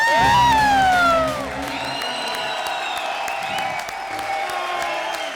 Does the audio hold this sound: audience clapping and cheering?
yes